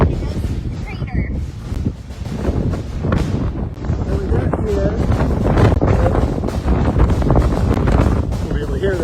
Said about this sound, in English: we're gonna brave the wind. Brave the wind to go see the crater.